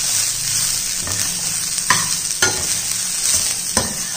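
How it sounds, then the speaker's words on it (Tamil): Vegetables sizzle and hiss steadily in a hot pan, with a few sharp clicks and scrapes as they are stirred, while cooking a barley rice kanji. "இதை நல்லா வதக்கிக்கிடுவோம்"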